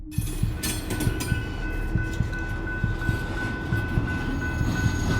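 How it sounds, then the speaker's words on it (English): An express train rolls along the rails with a steady, loud rumble, regular rhythmic clacks of wheels over track joints and a faint high whine running throughout, with no voices. "Thank you for riding the express to the void, but please get off the train now."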